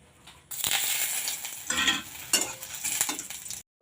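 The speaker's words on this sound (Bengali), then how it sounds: "আমি প্রথমে একটু তেল দিয়ে দিলাম দেব এলাচ মিষ্টি কাঠ এবং তেজপাতা" Cardamom, cinnamon and bay leaf frying in hot oil in a kadai, heard as a close, bright sizzle with bursts of crackle and stirring scrapes that rise and fall before stopping abruptly.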